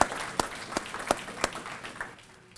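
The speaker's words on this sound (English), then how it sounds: "So I'd like to give you a round of applause, making this happen." Sparse applause from a conference audience, a handful of sharp, distinct claps at roughly regular intervals, fairly faint and fading out toward the end.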